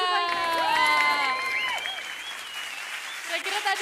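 Applause after a dance competition performance comes from an audience, with clapping and high, rising cheers and calls over it, loud at first and then easing to a softer patter.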